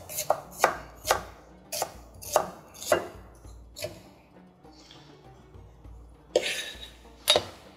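A knife chops garlic on a cutting board, about a dozen sharp close knocks in an irregular rhythm with a short pause in the middle.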